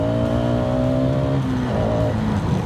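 A Hero Xtreme 250R motorcycle revs hard and accelerates, its engine note rising in clear harmonic sweeps, dipping at a shift and climbing again, loud and close throughout with no talking.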